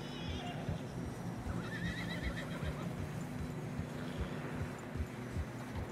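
Horses on a narrow snowy western trail in a video game, hooves clopping rhythmically throughout with a brief whinny partway through, all under low-level ambient noise.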